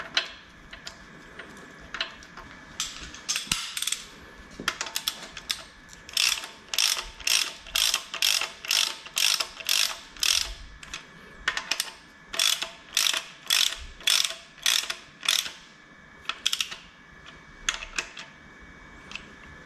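A ratchet tightens a bolt on a VW AAB 2.4 diesel engine under rebuild, giving bursts of crisp pawl clicks in short, evenly spaced strokes. The clicking is close and clear, with brief pauses between groups and no talking.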